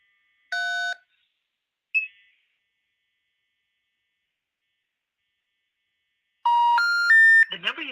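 Short electronic telephone tones from a phone line: a brief two-tone chirp, a single short blip, then a longer stepped run of pitched dialing beeps after a silence.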